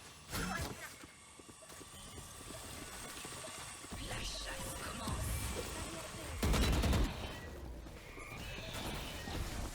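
Rapid bursts of gunfire and crashing effects fill a multiplayer shooter match, with a steady electronic drone tone running underneath and players talking over the action.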